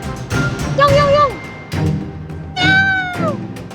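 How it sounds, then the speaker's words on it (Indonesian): A black cat meows twice, with clear, drawn-out, falling cries, while people talk and coo at it over street background noise. "Ada kucingnya. Kucing."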